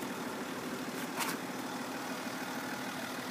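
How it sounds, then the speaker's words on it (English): A BMW X5 M Sport diesel engine idles at a steady low murmur, quiet and even throughout with no revving, heard alone. "this video of the X5 diesel. Nice and quiet"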